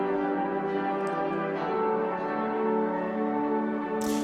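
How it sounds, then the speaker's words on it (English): A sustained keyboard part duplicated through a shimmer pad effect on a Wing mixing console during a live church worship mix, a dense, bright, evenly held chordal wash that rings on without pause. "So what you're hearing is actually a duplicate of what the main keyboard was playing."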